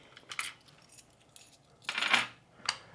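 A bundle of five keys for a Smonet smart deadbolt lock jangles in three short bursts, close and fairly quiet, with no talking.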